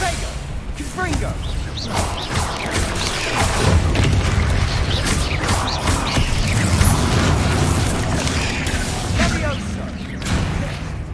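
Repeated Confringo blasting spells in Hogwarts Legacy: booming impacts and crackling whooshes follow one another over a busy mechanical background, with a voice talking over them.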